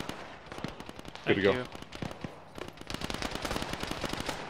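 Gunfire in a military video game, sharp rapid shots crackling close by amid a tonal burst, with someone speaking briefly over the action.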